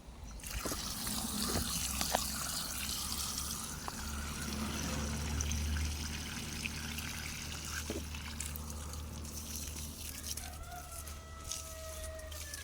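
City mains water trickling onto garden plants, a steady soft splashing dribble that holds for most of the stretch, moderately close, with faint background sounds and no voices.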